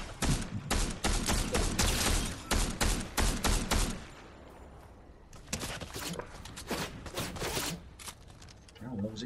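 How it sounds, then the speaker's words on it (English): Rapid bursts of gunfire from a Fortnite match, loud and close, with a dense volley early, a brief lull, then renewed shots; people talk throughout. "God, what was he shooting for?"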